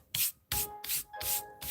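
Eraser shavings brushed off a sheet of paper during a drawing session: several quick, close rubbing sweeps in separate bursts, with brief pauses between strokes.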